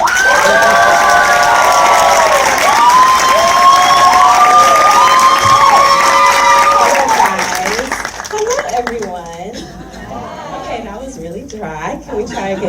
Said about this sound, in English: I want a loud, crazy round of applause